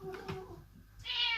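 A cat meows indoors, two quick chirps followed by a longer, higher meow, faint and close with no talking.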